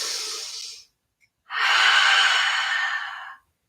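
A steady breath during vinyasa yoga practice: one short airy exhale, a brief silence, then a longer, louder breath of about two seconds, close and clear with no talking.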